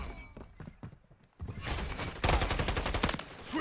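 Sustained automatic gunfire in the Call of Duty Modern Warfare III multiplayer match, sparse shots at first, then dense, loud continuous bursts that keep up to the end.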